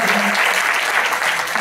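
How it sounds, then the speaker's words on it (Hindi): A crowd claps steadily for a couple of seconds, a dense, even burst of applause with no voices over it. "एक बार तालियां"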